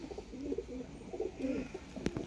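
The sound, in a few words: Sialkoti Sheikh pigeons cooing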